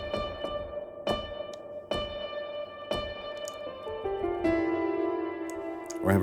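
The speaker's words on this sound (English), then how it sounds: "You have damp, which will make the reverb darker over time." Reverb tails from the Native Instruments Raum plug-in ring out after a series of sharp tonal hits, the sustained wash gradually losing its high end as damping darkens it, with a thicker tonal layer swelling near the end.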